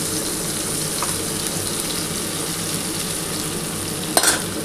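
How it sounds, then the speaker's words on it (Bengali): Pointed gourd, potato and papaya frying in oil in a pan, a steady close sizzle with soft stirring scrapes and one brief louder clink near the end, no talking. "পটল, আলু আর পেঁপেটা একটু হালকা করে ভাজা হয়ে গেলে"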